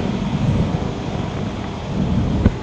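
Steady gusty wind roars and buffets the microphone, a continuous low rumble with a brief louder gust near the end.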